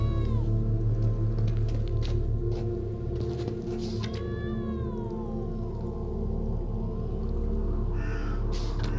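A cat in The Witcher III: Blood and Wine gives a few drawn-out, rising and falling meows over a steady game soundscape of low hum and ambient tones.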